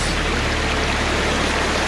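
Spring water in New Zealand runs in a steady, broadband rush, loud and close, with no break or change across the moment and no voices.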